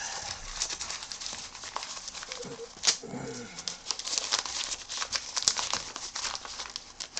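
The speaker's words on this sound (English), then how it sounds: "you get your tape and you tape it up" Clear packing tape is pulled off the roll and wrapped around a homemade fire log block of pressed sawdust and old cooking oil, giving crinkly, tearing crackles with one sharp rip partway through, close up and fairly quiet.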